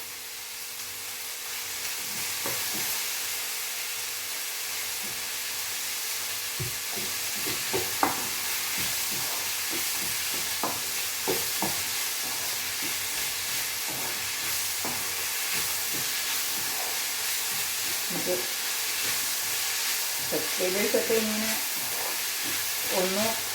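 Vegetables sautéed with salt in a pan give a steady background sizzle, with scattered stirring scrapes and clinks throughout and a busier cluster of utensil knocks near the end.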